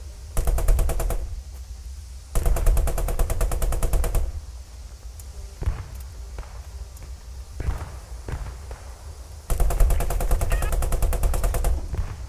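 Tank coaxial machine gun in the WWII game Squad 44, fired in long rapid bursts separated by pauses, loud and close, with quieter thuds and footsteps in between.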